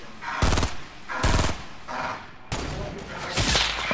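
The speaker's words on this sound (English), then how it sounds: "Somebody just sniped me." Gunfire rings out in the battle royale game Fortnite, four loud sharp cracks spaced about a second apart, each with a short ringing tail over low game ambience.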